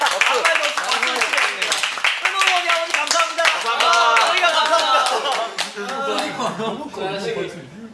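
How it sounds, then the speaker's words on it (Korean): A few people clap hands during a K-pop group's pre-debut live broadcast, brisk irregular claps close to the microphone, mixed with lively talk and laughter throughout. "박수를 치겠습니다."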